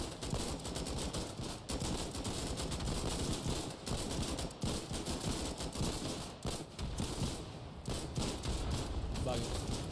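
Dense, continuous gunfire and fusillades in the Foxhole war game, rapid overlapping shots from rifles and machine guns crackling without pause, with voices faintly mixed in beneath the battle.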